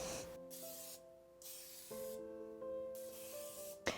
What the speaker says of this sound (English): Take a 9-inch pan and spray it with nonstick